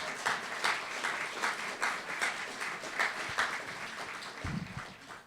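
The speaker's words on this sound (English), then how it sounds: "Let's give them a huge round of applause." A large audience claps steadily for a few seconds at a press conference for a Kansas ABLE outreach and awareness campaign. The sound is a dense, even wash of applause at moderate volume with a small hall echo.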